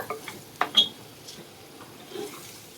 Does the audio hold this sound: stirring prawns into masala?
yes